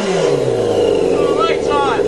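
A motorcycle-engined dune buggy with a cold engine revs hard and loud for about two seconds, the engine note climbing and sweeping upward close to the microphone.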